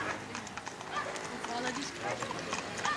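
Horses' hooves clip-clop in a steady, irregular patter during a group horseback ride, close by, with people talking over the hoofbeats.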